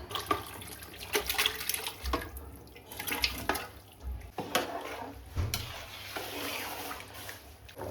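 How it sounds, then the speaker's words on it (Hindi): Yakhni stock goes into a pot of par-cooked rice for biryani in a home kitchen, a close, continuous wet splashing and sloshing with stirring and bubbling sounds rising and falling throughout. "अब इसमें है ना यखनी डालती हूँ"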